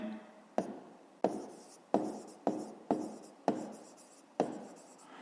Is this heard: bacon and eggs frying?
no